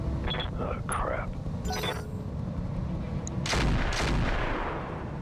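A Gauss rifle fires in the BattleTech mech game, with heavy booming shots and weapon bursts over dense rumbling battle noise, while a voice talks quietly underneath.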